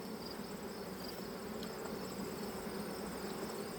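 Honey bees drone steadily around an open hive colony during an inspection while goldenrod is in bloom, a continuous close buzzing with no voices.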